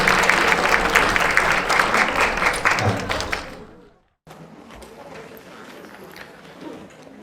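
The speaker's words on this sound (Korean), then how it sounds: "힘찬 박수로 맞아주시면 감사드리겠습니다." Loud audience clapping that fades out after a few seconds, followed by a brief silence and then quiet room noise.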